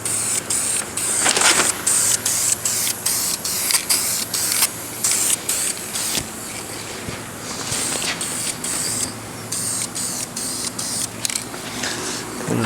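A spray can or spray gun hisses steadily while laying a light coat of metallic paint on car dash trim, gauges and console parts, with short pauses between passes and a close, continuous airy rush.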